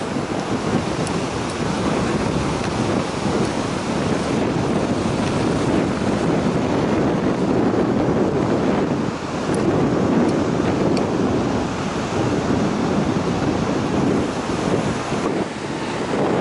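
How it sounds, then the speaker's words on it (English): Continuous sea surf and white frothy breaking waves wash in and out on the coast near Ratnagiri, India, under heavy gusting wind buffeting the microphone, a long steady roar with no voices. "The white frothy waves of the sea are a sight to see"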